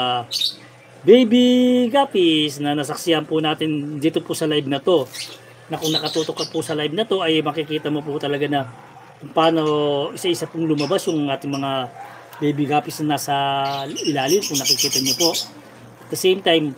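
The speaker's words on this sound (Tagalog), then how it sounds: "naririnig nyo rin po yung huni ng ating African lovebirds" African lovebirds chirp in the background of a home aquarium and bird room while a person talks steadily in the foreground. Brighter, sharper tweets stand out more clearly near the end.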